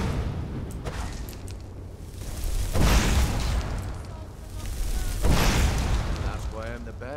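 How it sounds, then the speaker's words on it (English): Dragon fire breath in the Skyrim video game: two broad roaring whooshes swell and fade a few seconds apart over a steady rumbling game background, with someone talking at times. "Fire breath."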